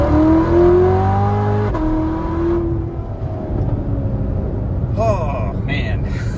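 A Chevrolet Corvette C7 ZR1 pulls hard through the gears, its engine note climbing and dropping at a shift before the sound fades into road noise, heard from inside with a brief clatter near the end.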